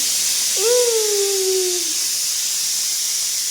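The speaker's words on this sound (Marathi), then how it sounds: "कितनी मोटी वाफ देते बघ" A pressure cooker vents steam in a continuous sharp hiss, loud and close, with a short voice-like tone rising over it early on.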